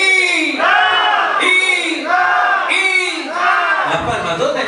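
A crowd at a celebration shouts three rhythmic hurrahs for a newly married couple, each a loud, drawn-out chorus of voices swelling and fading in turn.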